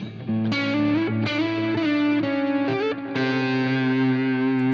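Electric guitar melody through a Lone Star amp with a driven, effected tone, sustained single notes and bends played steadily and loudly, with no voices.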